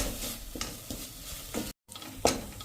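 Ginger, garlic and chili paste roasts in a pan with no oil, while steady stirring scrapes and swishes through a soft sizzle. One brief silent gap breaks the sound, and a sharper scrape follows near the end.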